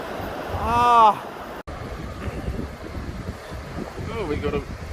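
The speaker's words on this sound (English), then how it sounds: "Oh, we got a wee waterfall there, eh?" Steady rushing water from a small waterfall in New Zealand backcountry, mixed with wind noise on the microphone, with excited voices calling out over it at the start and again near the end.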